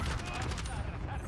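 Rapid bursts of gunfire in the video game Call of Duty: Modern Warfare crackle continuously, dense and loud, with a voice briefly talking underneath.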